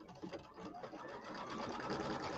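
An embroidery machine stitches a batting tack-down line on a Christmas quilt block, a fast, steady mechanical whirr with rapid needle rhythm, close but fairly quiet, with no talking.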